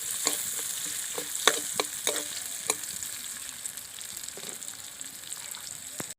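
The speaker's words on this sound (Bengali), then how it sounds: "ফোড়নে দিয়ে দিচ্ছি গোটা জিরে, পেঁয়াজ কুচি দিয়ে দিচ্ছি। পেঁয়াজটা একটু হালকা ভেজে নেব।" Whole cumin seeds and chopped onion frying in oil, a steady close sizzle punctuated by several sharp spatula taps and scrapes early on, settling into an even crackle.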